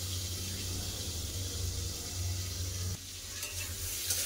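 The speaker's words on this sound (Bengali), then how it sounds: "চাপা দিয়ে ভেজে নেবো পটলটাকে" Pointed gourd (potol) sizzles steadily as it fries in a covered pan, a constant close frying hiss that drops slightly near the end, with no talk.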